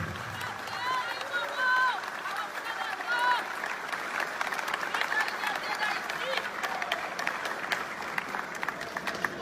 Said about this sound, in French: Applaudissez-vous encore une fois, s'il vous plaît.